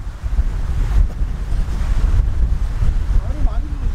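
Strong gusty wind buffeting the microphone outdoors on a golf course, a steady low roar with surging rushes that stays loud throughout, with no talking.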